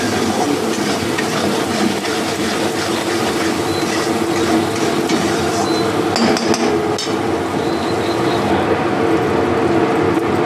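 Potatoes with turmeric being stirred and sautéed in a pan for a restaurant-style dum aloo: a dense, steady sizzle with scraping and clanking of the utensil against the pan, loud and continuous throughout.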